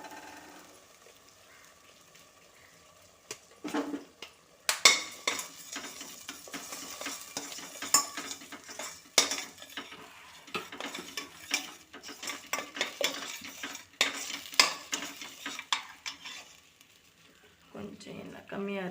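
Rice is stirred in a pan with a little oil while mint rice is being made: scattered scraping and clinking spoon strokes, fairly close, with someone talking throughout.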